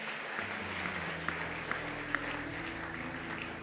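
Church congregation clapping during a Sunday service announcement, a steady wash of applause with a few sharper claps standing out, mid-distance with a faint musical hum underneath.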